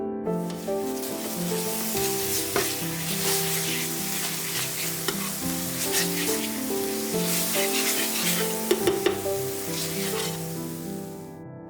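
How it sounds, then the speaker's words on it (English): Kroeung herb paste with prahok liquid sizzles and toasts steadily in a hot pan for a Cambodian beef stir fry, a continuous close frying hiss broken by a few scraping stirs, with no talking. "Combine them well and until the kroeung is toasted up"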